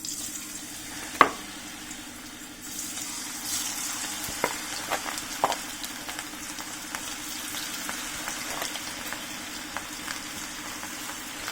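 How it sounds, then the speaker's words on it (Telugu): Cauliflower gobi pieces fry in hot oil for a chilli snack, a steady close sizzle and crackle with occasional sharp pops and utensil taps throughout. "ఇది ఆయిల్ హీట్ అయింది. వేసేద్దాం ఒక్కొక్కటి."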